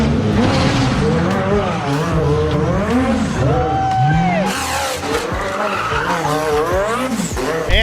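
McLaren drifting beneath a tractor trailer at an LS Fest West motorsport event, tires squealing in long wavering howls over a loud revving engine that surges and falls, close and sustained throughout.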